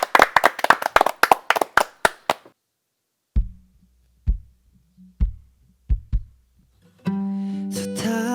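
A small studio audience claps in a quick burst of sharp hand claps, then a few slower isolated claps, before a musical tone begins.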